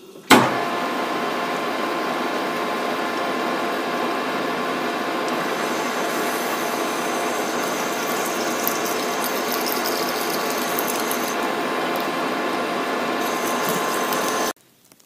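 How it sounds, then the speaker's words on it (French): A conventional lathe drills an 11 mm hole, giving a steady, loud mechanical whir with a grinding ratchety edge that runs unbroken for about fourteen seconds, then stops abruptly. "Perçage d'un trou diamètre 11."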